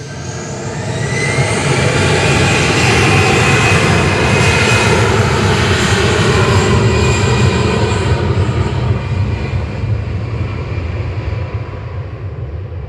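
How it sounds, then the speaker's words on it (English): An EasyJet Airbus A320-200 jet taking off at Manchester Airport, a loud sustained engine roar that swells and holds, then slowly fades toward the end, with no voices. "There's EasyJet off to Geneva there, GEZWC, flight 2185, A320-200."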